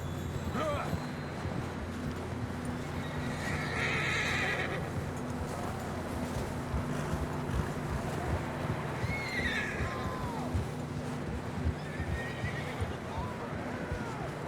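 A horse whinnies a few times in the video game Red Dead Redemption 2, over steady rumbling background noise and faint hoofbeats, with no talking.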